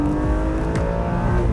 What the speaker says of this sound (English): The sound from the exhaust is unbelievable.